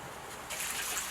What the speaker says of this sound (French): je suis désolé pour le bruit, il pleut.